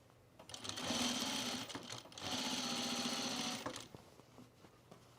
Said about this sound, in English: So now I'm going to sew this from the inside again